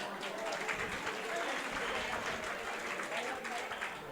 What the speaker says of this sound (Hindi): एक बार उन सब के लिए जोरदार ताली।